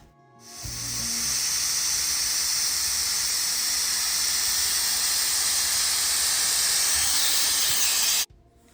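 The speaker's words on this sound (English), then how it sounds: "After your vent has been steaming for 10 to 15 minutes" Steam vents hard from a pressure canner while carrots are being preserved, a loud, steady, close hiss that starts abruptly and cuts off just as suddenly after about eight seconds.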